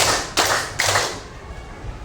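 A primary school class claps together on the teacher's count, two quick bursts of hand claps in a classroom, close and fairly loud, followed by fading room noise.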